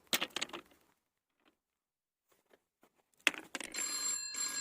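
A phone call rings out in a Bundeli village scene: a couple of short bursts, near silence, then a steady electronic ringing tone that continues to the end.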